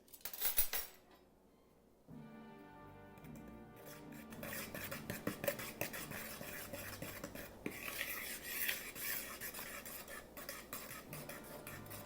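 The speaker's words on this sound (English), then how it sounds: "next we'll add our tablespoon of sugar, we'll mix those all together" Dry biscuit ingredients, flour and sugar, being stirred together in a mixing bowl, with a steady scraping and clinking of a utensil against the bowl after a brief quiet start.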